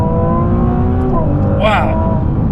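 A Ferrari 296 GTB hybrid supercar engine at high revs inside the cabin, loud and constant, with a brief stutter as it touches the rev limiter, under excited speech from the occupants.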